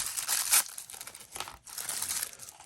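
A paper bag and plastic packaging from a Marvel Legends Stealth Suit Spider-Man figure crinkle and rustle in close, loud bursts with short pauses between handlings.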